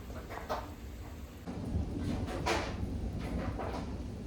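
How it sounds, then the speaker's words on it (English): A thunderstorm with steady rain hissing throughout, marked by soft rolling rumbles of thunder that swell and fade at a moderate distance. "It is raining today and lightning."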